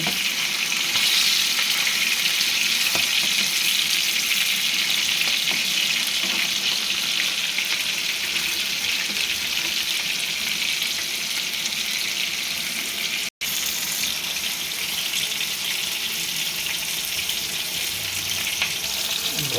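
Chicken pieces frying in a pan while being turned until brownish, a loud continuous close sizzle with faint stirring scrapes, one brief gap.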